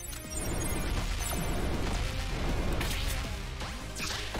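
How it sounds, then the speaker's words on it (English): Dense, continuous audio from the video game One Step From Eden, packed with repeated bursts and crashes, a busy layered barrage of explosions and impacts running throughout. "More explosions, more explosions!"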